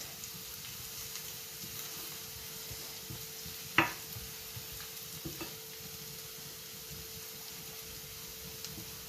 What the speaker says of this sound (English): I've also let it fry like for 1 minute.